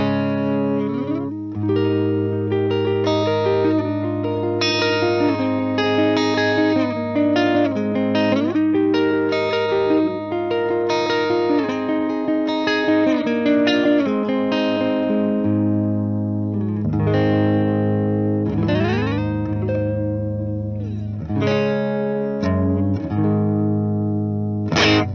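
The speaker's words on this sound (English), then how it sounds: "So those were the clean tones, using the crunch channel." Electric guitar played through a Boss Katana amp on its crunch channel with clean settings: a continuous stream of ringing chords and melodic single notes with effects, steady and fairly loud, no talking.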